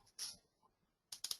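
A computer mouse gives a single crisp click, then after a pause a quick cluster of three light clicks, quiet and close in a still room with no talk.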